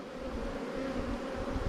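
Honeybees buzz around a beehive super set out with nectar-filled frames, a steady close hum of many wings with a droning tone throughout and no talking.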